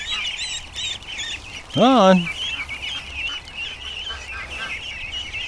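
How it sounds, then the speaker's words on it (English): Ducks, including Muscovies, call in a yard: a loud, close honking quack stands out above steady chatter and quacking. A person speaks briefly. "I think there's more ducks too scattered around the yard."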